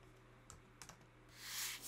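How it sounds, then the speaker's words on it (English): A few scattered key taps on a computer keyboard followed by a quick run of typing, close and soft, with no voices. "So we're going to type in Facebook Conversions"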